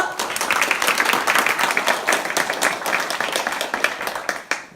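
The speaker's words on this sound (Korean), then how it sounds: "뜨거운 박수 부탁드립니다" Dense, steady audience applause at a Seoul urban agriculture master plan evaluation forum, filling the room for nearly five seconds before tapering off at the end.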